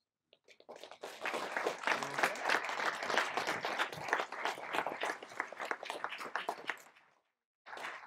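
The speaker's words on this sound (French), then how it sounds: "Merci pour les applaudissements." Applause from the crowd at a communist party rally, dense sustained clapping that rises quickly, holds for several seconds and fades, then a brief burst resumes.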